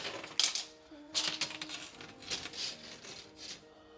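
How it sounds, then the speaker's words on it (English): A metal measuring tape is drawn out during a storage-shelf installation in a house, giving close, dry clicking and rattling bursts at uneven intervals. "So for now, I'm gonna start off with measuring tape."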